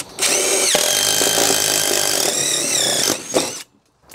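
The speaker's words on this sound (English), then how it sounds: "So let's go ahead and get those holes drilled." A power drill with a hole saw cuts 2 1/4 inch holes, one steady loud grinding whine held for about three seconds before the bit stops, with no talk.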